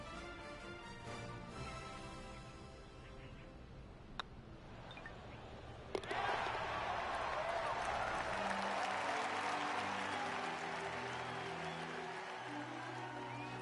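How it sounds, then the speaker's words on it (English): A crowd at a golf tournament win in PGA 2K23 goes quiet, then a sharp click sets off sustained, fairly faint applause that keeps going steadily to the end. "Sometimes you've just got to stand and applaud."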